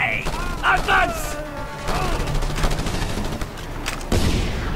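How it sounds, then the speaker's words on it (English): Rapid SMG gunfire in Just Cause 2 at a refinery, with dense bursts of shots and explosive booms mixed with in-game voices, loud and close throughout. "SMG tears through it like candy."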